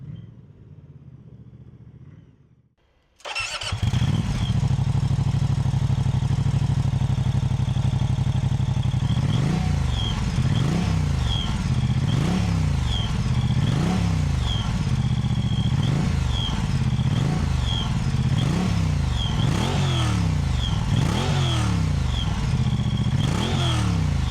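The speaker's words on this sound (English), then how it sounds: "let's go and listen to the sound of this beautiful 1042cc transverse V90 water-cooled engine" A Moto Guzzi V100 Mandello with a 1042cc transverse V90 water-cooled engine starts and then runs loudly and up close, its steady throb rising and falling through repeated revs, with no talking.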